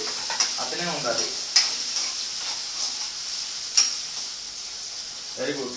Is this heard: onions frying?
yes